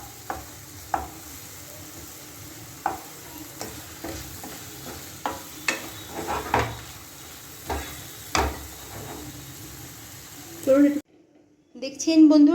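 Spices with turmeric and sugar sauté in hot oil, a low continuous sizzle with regular clacking spatula strokes close by, ending in a brief pause and then a louder burst of frying.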